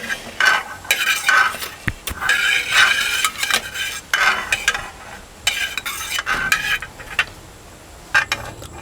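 A favourite dish is fried in a pan, with steady stirring and scraping of a utensil against metal over a faint sizzle, and sharp clinks now and then.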